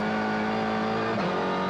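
Volkswagen Golf TC Canada race car at a 2021 Canadian Tire Motorsport Park sprint race, a loud sustained engine drone with a pitch shift partway through, heard on board.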